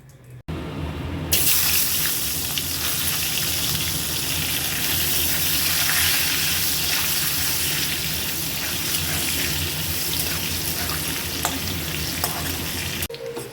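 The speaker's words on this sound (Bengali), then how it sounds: "এবার এই মাছ ভাজা তেলের মধ্যেই আলুগুলো ভেজে নেবো" Potatoes fry in oil left over from frying hilsa fish, a loud, dense, unbroken sizzle close by that starts abruptly after a brief quieter moment and holds steady before cutting off at the end.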